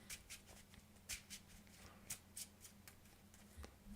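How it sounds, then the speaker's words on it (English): Quiet riffling and soft slaps of a Yu-Gi-Oh trading card deck being shuffled by hand, several short bursts of card noise in an irregular rhythm, close and faint with no talk. "Give us one more chance to shuffle."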